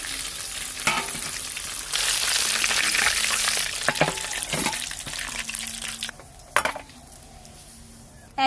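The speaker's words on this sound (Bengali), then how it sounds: "একই রকম ভাবে এইগুলো ভেজে নেব।" Chicken pieces frying in hot oil, a loud, bright sizzle that swells in the middle and then drops away, broken by a few sharp knocks and clinks of the utensil against the pan.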